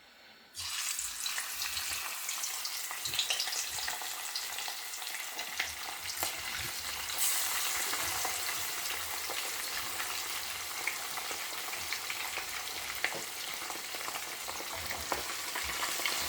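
Snapper fish fries in hot oil for Jamaican fried fish, starting abruptly as it goes in, then a steady, moderately loud bubbling sizzle with occasional pops and faint utensil clicks, no one speaking.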